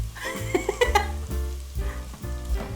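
Garlic sizzling as it fries to a light golden brown in a pan, a steady close hiss broken by a few brief brighter crackles and stirring knocks.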